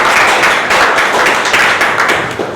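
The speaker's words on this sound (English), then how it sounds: "Let's have a round of applause for you all." Dense, continuous round of applause from a meeting audience, many hands clapping together at close range with no talking, fading slightly toward the end.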